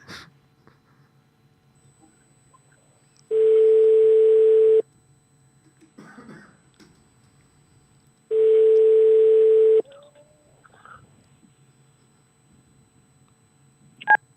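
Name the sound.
telephone ringing on outgoing call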